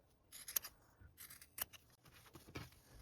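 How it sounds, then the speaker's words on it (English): Scissors snipping fabric at the corner of a clutch bag flap, a few quiet close cuts and rustles, sharp blade clicks near the start and middle. "And now I'm trimming that corner just like I did in the previous step."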